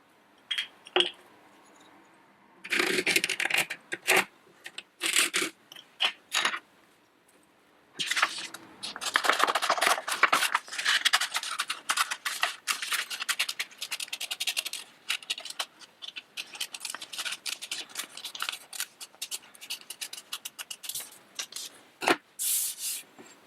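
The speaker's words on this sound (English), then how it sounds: "draw around it on a piece of paper and then cut it out." Pencil drawing around a camera body cap on paper, then scissors cutting the paper out, heard as close, quiet bursts of scratching and snipping with short pauses and no voices.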